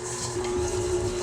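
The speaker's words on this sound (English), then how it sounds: "we're going to be beating this, so that's speed 4 on the mixer" An electric mixer on speed 4 beats butter and sugars for cookie dough, making a steady whirring motor hum with a constant tone, loud and close, without talking.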